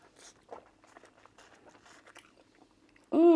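Cocoyam fufu and ofe nsala with shrimp being eaten, soft close chewing and mouth sounds over quiet room noise, ending in a sudden loud burst.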